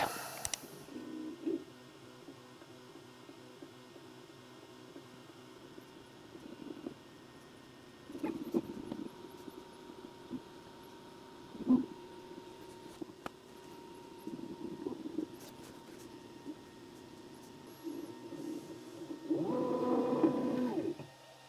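A Mecpow X4 Pro 22W laser engraver running, with a steady low mechanical hum, faint stepper-motor whirring and occasional clicks as the head moves, ending in a louder buzzing burst.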